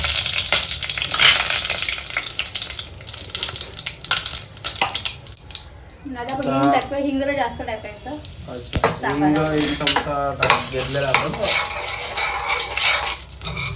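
Green chillies and curry leaves sizzle in hot oil for sambar, a crackling fry with spoon stirring that pauses midway, where a voice talks over a softer hiss, then returns loud and bright.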